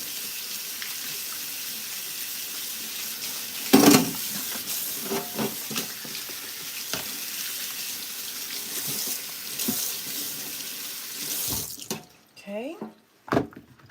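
Tap water runs steadily into a kitchen sink while carrots are rinsed for soup, a continuous hiss with a few brief clunks and splashes, then it cuts off near the end.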